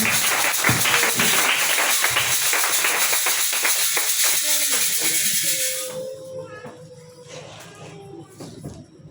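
A congregation at a Tuesday prayer meeting claps and cheers in praise, a dense loud wash of applause that fades after about six seconds into quieter murmurs and scattered voices.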